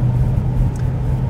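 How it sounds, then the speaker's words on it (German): Battery cooling running in a Tesla Model S Long Range after fast driving, a steady low hum that droning evenly inside the car, with no one speaking. "Und ich höre gerade, wie die Akkukühlung angeht"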